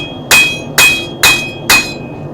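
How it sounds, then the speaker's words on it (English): Four evenly spaced ringing strikes from a smaller hammer shape the bevels of a seax knife blade on an anvil, loud, close and sharp, each followed by a brief ring. "then we can define the bevels with a smaller hammer."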